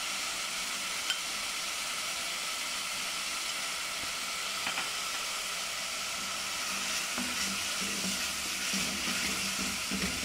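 Multani masala fries in hot ghee while being stirred, giving a continuous, even sizzle and hiss with faint scraping from the stirring and no voices.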